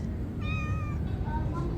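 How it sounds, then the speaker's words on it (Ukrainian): A cat meows twice in quick succession, the calls rising and falling, close by over a steady bed of outdoor background noise on the island of Thassos, Greece. "Я з кота пообщалась."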